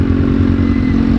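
A Kawasaki ZX6R motorcycle engine running loud and close, a steady rough rumble with a buzzing, clattery edge and no speech over it.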